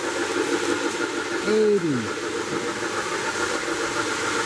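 An MTH Big Boy model steam locomotive runs at high scale speed, making a steady, close rattling rumble throughout, with a voice speaking briefly over it.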